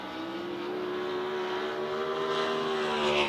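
Race cars lapping Outlaw Speedway during a Kubota High Limit Racing event, their engines making a steady, loud, continuous roar with a sustained whining drone and no break.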